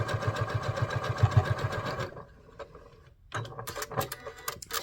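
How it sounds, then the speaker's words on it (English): Close and loud, a sewing machine chatters in a rapid even rhythm stitching a maple leaf garden flag, then stops, followed by fabric handling and scattered clicks. "Again, just sew this."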